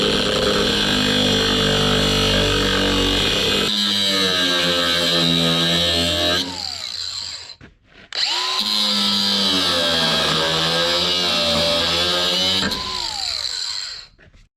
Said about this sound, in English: we gotta grind that off